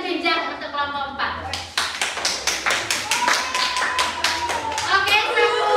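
Group in an Indonesian teacher-training class does the rhythmic "tepuk jajar jenjang" clap for group 4, sharp, evenly spaced claps in a patterned beat, with voices chanting or talking alongside.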